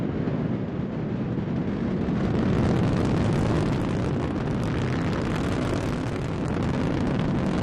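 A Delta IV Heavy rocket at full thrust, lifting a probe bound for the Sun, gives a continuous, loud, rumbling broadband roar that holds steady and unbroken throughout, with no voices.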